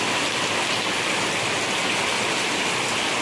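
Heavy rain pours in Malaysia, a dense, steady wash of loud hiss with no pauses, close and continuous.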